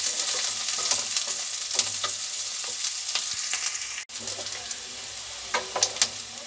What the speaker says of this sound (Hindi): प्याज को हम जो है ब्राउन करेंगे